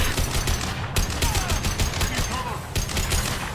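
Rapid gunfire from a third-person shooter, Mass Effect 2 remastered, dense repeated shots crackling steadily throughout at close range with a few brief pauses.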